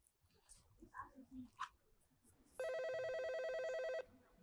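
A phone call ringing with a steady electronic ringtone, one continuous ring of about a second and a half, preceded by faint voices talking in the background.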